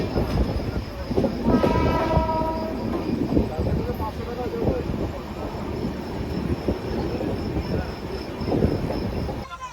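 A passenger train runs through Bihar toward Patna Junction on a long rail journey, its steady rolling rumble filling the span, with a brief tonal horn-like note near the start and faint voices underneath.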